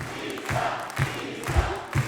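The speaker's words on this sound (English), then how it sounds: "the crowd here was elated" Crowd at a Spokane mayoral candidate's election night event cheering and shouting, with bursts of noise rising and falling every half second or so over steady crowd chatter.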